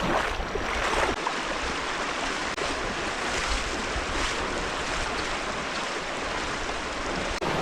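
River water pours over falls at Devil's River in Texas, giving a steady, loud, broadband roar of rushing current and spray with no break and no voices.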